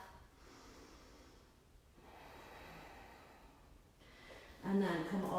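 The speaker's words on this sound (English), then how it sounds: "Another breath." Slow, deep breaths during a beginner home-workout stretch: a long exhale followed by another drawn-out breath, then a louder, sharper breath near the end, close and alone.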